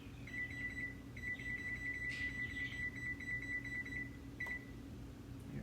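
A kitchen timer being set for 20 minutes gives a faint, continuous high electronic beep with repeated short pulses over a low background hum.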